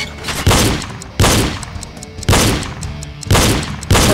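Gunfire in the PC game Reload: five loud, evenly spaced shots, each a sharp crack with a lingering decaying tail, arriving roughly every 0.8 seconds with no talking.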